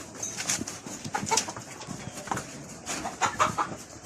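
Free-range native chickens cluck and peck in short irregular bursts nearby while feeding, with soft scratching and rustling between the calls.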